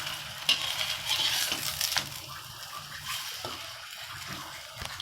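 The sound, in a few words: spinach paratha frying in ghee in a frying pan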